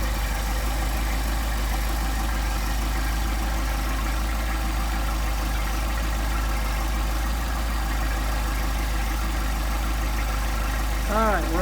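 A Mercedes 190SL engine with Solex carburetor idling at low revs during a cold start, a steady deep hum with constant vibration throughout, near and even, with no voices.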